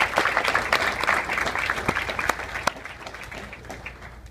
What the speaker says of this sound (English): we should all give them a great round of applause